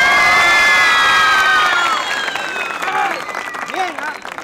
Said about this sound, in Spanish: Aplauso para Cielo.